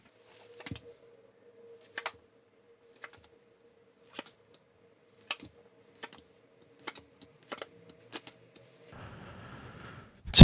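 A series of soft, crisp taps and card snaps spaced a second or so apart as tarot cards are drawn and laid down, close and quiet over a faint hum, ending with a short rustle.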